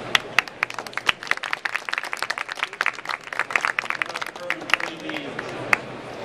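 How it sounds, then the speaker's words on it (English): Audience applause for the Secretary at a CEO panel at the University of Maryland, Baltimore BioPark: scattered, distinct claps from a modest crowd, uneven and sparse, thinning out toward the end. "Give him a round of applause"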